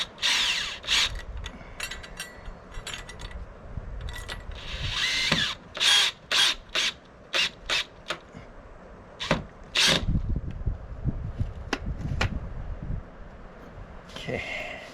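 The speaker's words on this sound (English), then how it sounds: "Does not come with the battery operated drill though." A battery-operated drill drives screws to mount a bracket for a Lowrance Elite FS chart plotter, in short whirring, ratcheting bursts with pauses between them, while someone talks.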